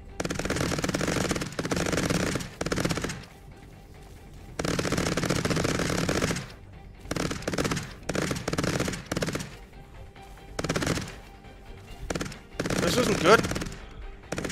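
Bursts of automatic gunfire from the Cepheus Protocol video game, loud and dense in long rapid runs separated by short gaps, with a player's voice talking over parts of it.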